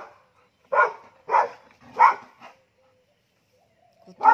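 A Labrador barks at a cow during a morning walk outdoors: three loud, evenly spaced barks, then a short pause and a fainter yip, followed by one more bark at the end. No talking.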